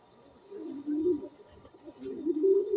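A pigeon coos softly and close by, making a few low, rolling coos in a quiet indoor setting.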